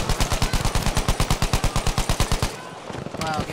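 Rapid automatic gunfire in the shooter game Battlefield V, Twisted Steel map in Breakthrough mode: a steady burst of close, loud shots at an even rhythm for about two and a half seconds, then a brief lull with scattered distant noise.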